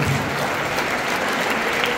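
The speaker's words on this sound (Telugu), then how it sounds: "దించండి గట్టిగా చప్పట్లు వేసింది." Students at a Tandur talk on Swami Vivekananda's message to youth applaud loudly in a dense, steady wash of clapping that fills the whole moment.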